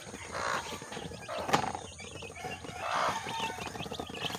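A mother hen and her chicks fuss and squabble, with bursts of clucking and squawking around the start and again near the three-second mark over steady farmyard noise and no voices.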